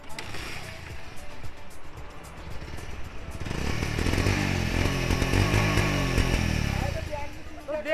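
A black 2024 Suzuki Hayabusa motorcycle, kick-started because its self-starter is not working, roars to life partway through and its engine revs in rising and falling waves, loud and close, after a stretch with people talking.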